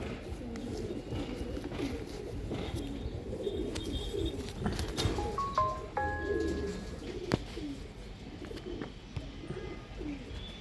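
Soft coos and a few chirps from racing pigeons come through a steady, muffled background rumble, fairly faint and at a moderate distance.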